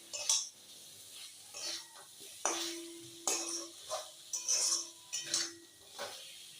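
Chicken being stirred with salt in a pan for an oil-free dish: repeated scraping strokes of a utensil against the pan, close and moderately loud, with a faint sizzle between the strokes.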